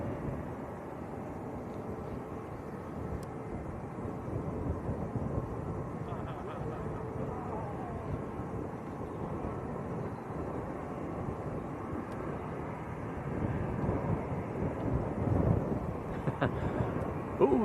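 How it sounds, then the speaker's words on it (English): Eurowings airliner taxiing at Manchester Airport, a steady distant jet engine rumble and whine with wind buffeting the microphone, swelling slightly louder toward the end. "Eurowings taxiing out."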